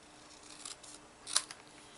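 Scissors cut the corners off a paper stationery box, making two quiet, crisp snips close by in a hushed room.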